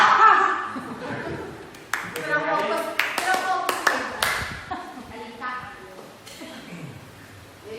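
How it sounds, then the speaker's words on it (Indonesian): Clapping from an audience of teachers at a school workshop, scattered hand claps and a short rhythmic group clap mixed with laughter and a speaking voice. "Aplaus untuk kita semuanya"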